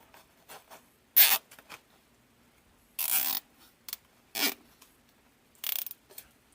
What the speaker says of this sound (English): Zip tie it together.